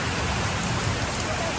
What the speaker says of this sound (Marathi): पहिला मोठा वळवाचा पाऊस आहे